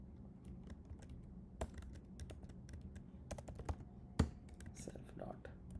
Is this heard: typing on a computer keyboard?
yes